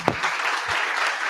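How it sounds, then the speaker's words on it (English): A short burst of applause from an audience welcoming a speaker at an education talk, dense clapping throughout with a brief sharper clap near the start. "So please, a round of applause for our Tijana."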